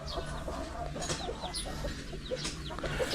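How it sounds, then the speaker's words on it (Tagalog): Native chickens clucking near a coop with a low metal roof, several birds giving soft, repeated clucks at close to middle distance over a steady background hum, no speech. "ayan nandyan lang yung mga native chicken"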